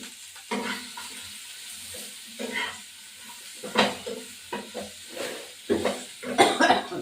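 Fish curry with ginger being stirred in a pan: soft scraping and shuffling strokes come in irregular bursts over a low, steady sizzle, close and moderately loud, with no talking.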